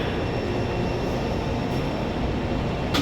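Inside a train in Taipei heading toward Taipei 101, a steady, close rumble of the moving carriage runs throughout, with a brief higher hiss near the end.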